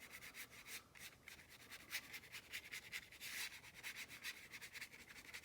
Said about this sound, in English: you can hear that I'm scrubbing, but it's real soft